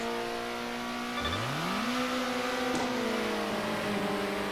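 A race car's engine in the Circuit Superstars video game revs hard and climbs through gears, with pitch sweeping up after each shift and a brief tire squeal, loud and steady throughout.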